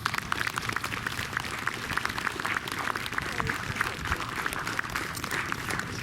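Audience applause at a sixth-grade school band concert, dense continuous clapping from a crowd throughout, moderately loud and fairly close.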